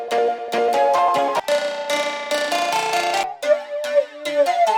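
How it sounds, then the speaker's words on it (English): Synthesized melodic notes processed with a flanger effect, a bright, sweeping, swirling tone over a quick sequence of plucked tones that ends in a whooshing, comb-filtered wash. "Flanger effects can make pretty cool sounds."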